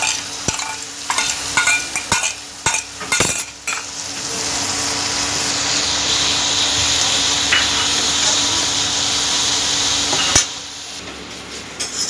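Onion paste frying in hot oil: sizzling swells after a few scraping clatters, a steady loud fry that runs on for several seconds before a final clank.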